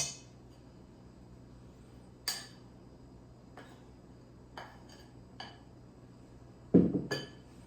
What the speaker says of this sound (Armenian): Ավելացնում ենք նորից ալյուրը